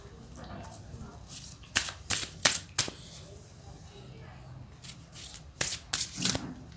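Tarot cards are shuffled close by in two quick clusters of crisp riffling bursts over a quiet room background.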